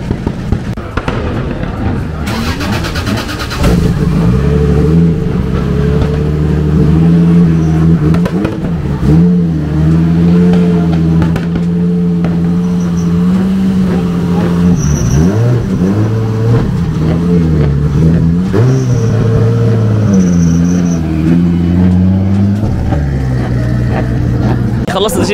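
A car engine revs loudly and steadily in a sustained drone as the clutch is tested while a race car is prepared at a starting line, with a few pitch swells and people talking over it.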